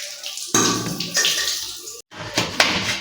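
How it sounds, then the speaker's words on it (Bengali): Running water splashes and pours while dishes and utensils are washed by hand at home, with steady rushing flow, short breaks and clinks, close and fairly loud. "সব বাসনপত্রগুলো ধুয়ে নিচ্ছে"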